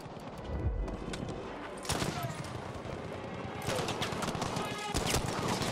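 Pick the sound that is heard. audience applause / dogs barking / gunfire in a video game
gunfire in a video game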